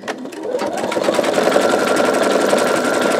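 An embroidery machine stitches out a bumblebee quilt block, a steady rapid mechanical chatter close by that builds over the first half second and then holds level.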